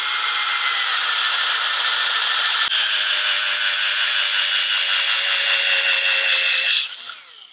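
A power drill bores a hole into a wooden piece, a loud steady high-pitched whine that holds constant, then winds down and fades at the end, with no talking.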